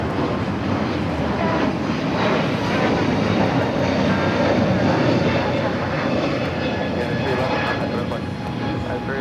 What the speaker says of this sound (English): Viva Aerobus coming in from Guadalajara, flight 510 at A321 Neo.